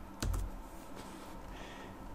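Computer keyboard keys tapped while entering numbers in a design program, one sharp key hit up front followed by faint soft clicks, close and quiet with no talking.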